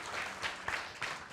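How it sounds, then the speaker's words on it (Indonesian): Audience applause for journalists at an awards event, a brief, fairly faint burst of clapping from a crowd, continuous with a few louder swells and no talk over it. "Jadi tepuk tangan untuk semua jurnalis di sini."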